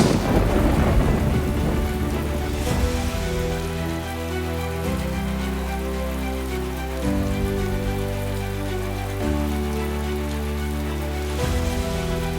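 A thunderstorm with steady rain pattering on surfaces, with deep rolling thunder rumbling underneath throughout, loud and continuous with no voices.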